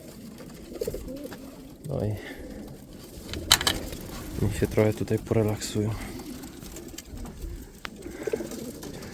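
Soft pigeon coos sound in bursts from an aviary alongside outdoor ambience, while someone talks nearby.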